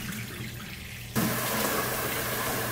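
Rice is rinsed under water: after a quiet second, a tap suddenly gushes into the bowl with a steady, close splashing rush that continues to the end.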